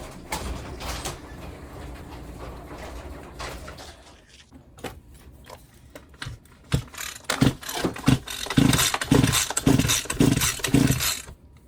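A Champion 23cc string trimmer with its air filter housing replaced is pull-started in a garage: steady mechanical whirring, then a run of sharp rhythmic cord-pull and engine sputter bursts growing louder toward the end.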